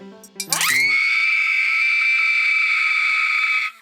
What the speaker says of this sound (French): une tirelire qui hurle quand vous mettez de l'argent dedans